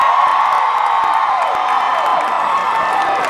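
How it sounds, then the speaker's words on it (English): Large theatre audience cheering and whooping during a Harry Potter film tribute show, a loud, dense wash of crowd noise with scattered claps throughout. "Can I get a big round of applause from our Ravenclaws?"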